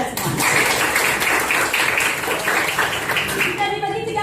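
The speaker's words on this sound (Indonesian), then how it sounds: "Tepuk tangan buat kita semua." Students in a classroom clapping together, a dense patter of many hands that runs steadily and then cuts off near the end, with voices mixed in.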